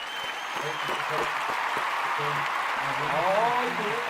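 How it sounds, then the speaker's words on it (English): Applause for guest Vince Romo on a casual hip-hop talk show, a steady crowd clapping that runs throughout the clip with voices talking and calling out over it. "Can we get a round of applause for my homeboy Vince Romo"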